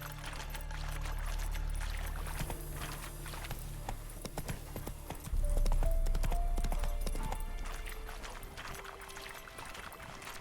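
Roach, a horse in The Witcher 3, gallops with steady rhythmic hoof clops over a low rumbling background. The hoofbeats surge louder partway through, then ease off.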